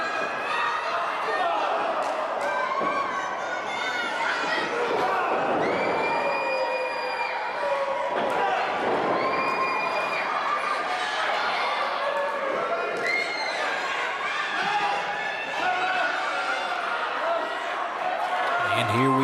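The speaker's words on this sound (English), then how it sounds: "Crowd electric behind Bobby Love." Wrestling crowd at a live televised match roars and cheers steadily throughout, with a commentator's voice running over the sustained, dense crowd noise.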